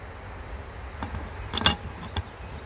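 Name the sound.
honey bees buzzing at a beehive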